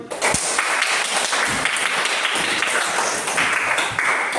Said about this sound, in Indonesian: Tepuk tangan untuk Wahyudi.